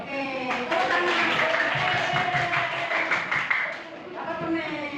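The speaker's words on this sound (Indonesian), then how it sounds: "Oke, tepuk tangan." A classroom of students claps hands together in a brief burst of applause, steady and fairly close, with voices mixed in over the clapping.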